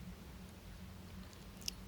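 A pet cat chews close by, with quiet, soft, steady mastication over a low room hum and a single sharp click near the end; no one speaks.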